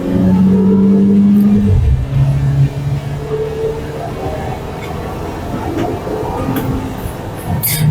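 Audi Q3 special edition SUV accelerating hard along a short straight, a rising engine note under steady road and wind noise inside the cabin, with a brief low surge early on and no talk.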